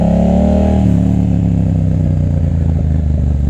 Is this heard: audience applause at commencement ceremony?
no